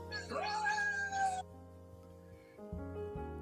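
A cat in an anime gives one drawn-out rising meow, clear and close over a soft background music bed, followed by quieter sounds with no talking.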